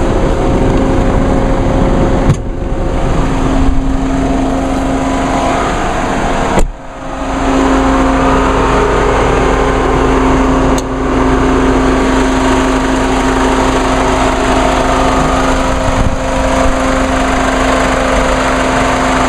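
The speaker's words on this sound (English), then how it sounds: "Well, that cooling fan is on full blast." A 2.1 liter four-cylinder diesel engine runs steadily under the hood while the radiator cooling fan roars at full blast, a loud continuous drone with a sustained whine and a few brief dips.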